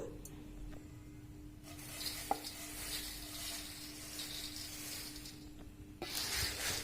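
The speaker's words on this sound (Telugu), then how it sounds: "ఇప్పుడు ఇవన్నీ మిక్స్ చేసేస్తున్నాను." Red rice avalakki is stirred together with deep-fried chillies, garlic and dry coconut in a pan, giving a soft, steady scraping and rustling with faint sizzle and an occasional sharp tap of the utensil, quiet throughout.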